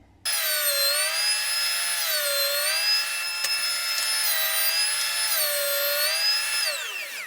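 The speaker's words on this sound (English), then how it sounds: "Now we're going to joint one edge" A Wahuda benchtop jointer cuts along the edge of a 2x4 board, giving a loud, steady high-pitched motor whine with cutter hum that rises and dips slightly through the pass, running alone with no talk.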